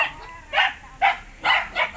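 A dog barks at a lone house in the mountains: four short, sharp barks in quick, uneven succession, fairly close and loud, with no talk over them.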